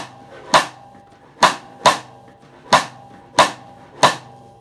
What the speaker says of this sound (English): clave, for those that may not know, is this five note pattern that sounds like this.